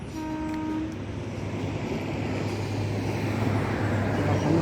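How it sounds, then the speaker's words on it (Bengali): A train rolls past a rider on a motorbike trip from Siliguri to Kolkata in West Bengal, with a steady low rumble and a long even roar. A few faint horn-like tones sound near the start, and no one talks. "ট্রেন লাইন ট্রেন যাবে ওখান থেকে"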